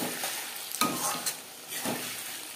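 Eggplant cooks in fish oil in a pan over a low-to-medium gas flame, giving a soft, steady sizzle broken by a few brief stirring scrapes, close and fairly quiet, with no talking.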